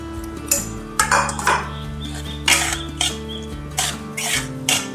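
A spoon scrapes and clinks against a pan as sweet poha with roasted cashews and a pinch of salt is stirred together, in a handful of short, uneven strokes over soft background music.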